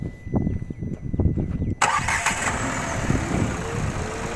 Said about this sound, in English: when you rev the engine, the vibrations smoothen out, and then the noise inside is very less